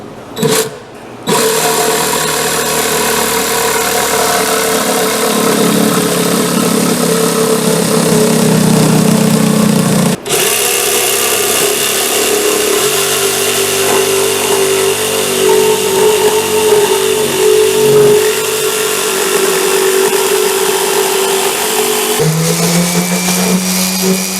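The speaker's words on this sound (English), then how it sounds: "with my jigsaw, I'm going to cut out these little hand holes for opening the box" A jigsaw cuts hand holes in a wooden box in a workshop, a loud, sustained buzzing motor whine with a brief pause midway and a shift in pitch near the end, close up and without speech.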